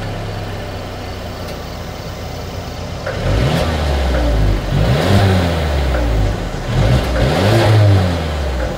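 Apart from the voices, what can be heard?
2022 Mercedes-Benz GLB 250 dual exhaust revving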